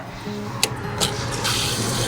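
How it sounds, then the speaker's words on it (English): Water runs steadily into a tank being refilled by a pump, a continuous rushing flow with a couple of brief splashes before it settles into a louder, even stream. "And you just wait till the water comes."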